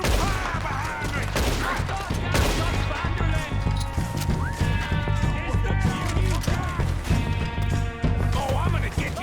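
Covering gunfire in Red Dead Redemption 2 rattles on as a dense, continuous fusillade with crashes and thuds, while voices shout over the shooting throughout.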